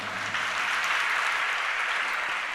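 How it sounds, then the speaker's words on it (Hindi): An audience claps together at a Jain religious gathering in Tilwara Ghat, a dense, loud and even burst of applause lasting a couple of seconds with almost no voices over it. "अब देखो ताली भी बज रही है"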